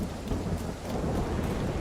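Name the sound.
rain and thunder in a video game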